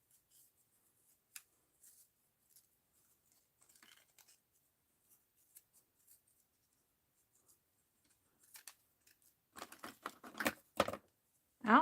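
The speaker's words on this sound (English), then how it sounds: "Let's cut around the button." Scissors snip paper around a button for a mixed-media tag, sparse quiet cuts at first, then a denser run of close, crisp snipping toward the end.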